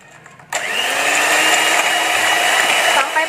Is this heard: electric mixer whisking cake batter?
yes